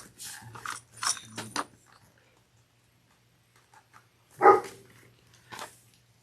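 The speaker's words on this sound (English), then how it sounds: "pretend like my dog's not barking." A dog barks in short bursts, a few sharp barks close together at first, then a single loud bark and one fainter one after a pause, in an otherwise quiet room.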